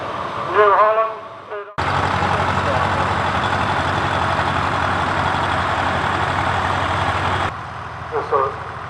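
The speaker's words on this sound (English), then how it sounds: "The big four-wheel drive is a versatile tractor there, you saw him go past." A big four-wheel-drive tractor rolls past in a heritage-weekend grand parade, its loud, steady engine drone dominating several seconds before cutting away. Someone talks briefly before and after the engine sound.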